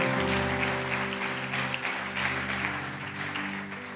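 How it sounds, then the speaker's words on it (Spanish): A church congregation applauds during a worship service, steady clapping that rolls on for a few seconds over sustained organ or keyboard tones underneath. "Dele un fuerte aplauso al Señor"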